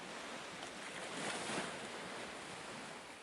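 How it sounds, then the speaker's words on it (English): Waves wash steadily onto golden sand and rocky outcrops at a wild Irish beach, a continuous broadband surf roar that swells gently near the middle, with wind noise and no voices. "the sound of waves gently crashing against the rocks soothes your mind"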